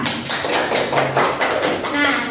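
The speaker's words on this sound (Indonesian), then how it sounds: "Tepuk tangan dulu untuk kita" A classroom of students clapping together in quick, dense applause that stays loud and steady for a couple of seconds, with voices mixed in.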